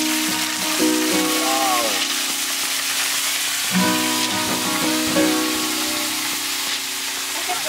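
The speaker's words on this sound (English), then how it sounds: "they just put all the SuSo into a big kind of kawa, and they're just frying them up" Snail adobo frying in a large kawa pan in the Philippines, a steady close sizzle and crackle throughout, with scraping and stirring knocks and some faint background voices.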